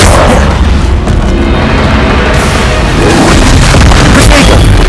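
Spell explosions from the Confringo and Incendio spells in the video game Hogwarts Legacy make heavy, booming, crashing blasts that roll into one another, very loud and close, filling the whole stretch with no pause.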